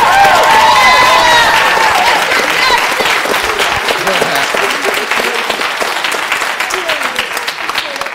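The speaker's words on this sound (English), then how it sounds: "Let's give Jackson a round of applause." Audience at a junior high and high school spring band concert breaks into loud applause, dense clapping with a few whoops early on, gradually thinning over several seconds.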